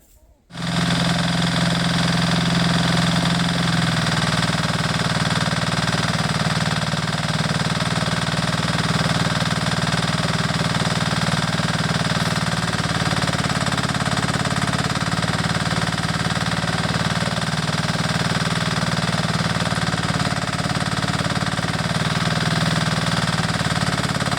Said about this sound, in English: I'm going to use the excavator to do the posts anyway